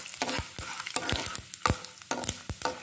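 Cumin seeds crackle in hot oil alongside chana dal while a utensil scrapes and stirs the pan in repeated bursts, each stroke a sharp clatter over a steady close sizzle, for a mint, red chilli and tomato chutney.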